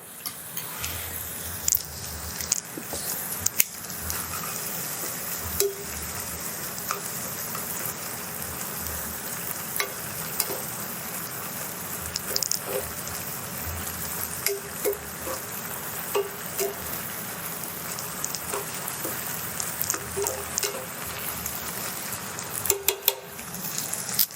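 Pasta sauce is stirred into a pan while cooking homemade ravioli. A steady crackling sizzle runs throughout, with occasional soft scrapes and clicks from stirring.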